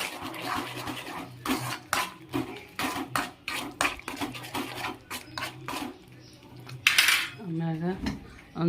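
A utensil scrapes and clinks repeatedly against a pan while onion-tomato masala is stirred, an irregular close rhythm of metal knocks, with a short voice near the end.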